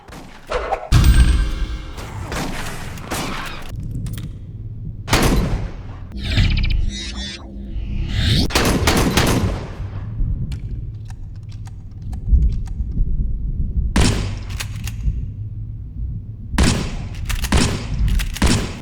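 Shotgun blasts in a first-person shooter game ring out loud and close, about eight sharp booms at irregular intervals with mechanical clatter and rumbling tails between them.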